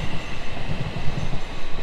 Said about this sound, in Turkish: şuradan böyle bir tren geçiyor.